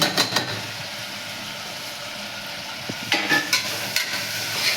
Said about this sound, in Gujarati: શાકભાજી બધી મિક્સ થઈ ગઈ છે તો એને સરખી રીતે મિક્સ કરી લેવાનું